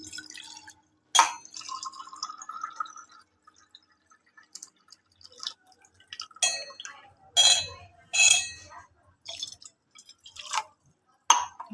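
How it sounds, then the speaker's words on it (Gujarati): Water is poured from glasses into a pot to boil dried wheat-flour sev, heard as a series of separate splashing bursts with glassy clinks and short quiet gaps between them. "એના માટે આપણે 2 ગ્લાસ પાણી આમાં નાખી દઈશું."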